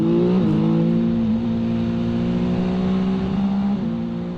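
A 2021 Yamaha MT-09 SP motorcycle engine pulls hard under acceleration, its loud, close engine note climbing steadily with a brief gear-change dip before rising again.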